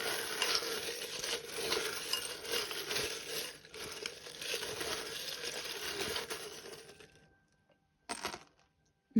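Metal charms jingle and clink continuously as they are shuffled, a dense rattling that stops abruptly, followed by one short final clatter.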